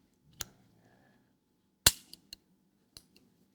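The trigger mechanism of an old pistol-carbine gives off sharp, dry metallic clicks and snaps, one isolated click and then a cluster of three or four quick clicks, close and clear against silence.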